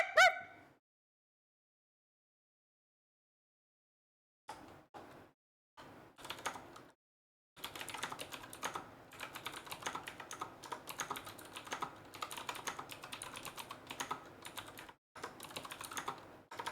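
Computer keyboard typing comes in quick clattering bursts after a short initial sound and a silent gap, then settles into a dense, steady run of clicks that continues to the end.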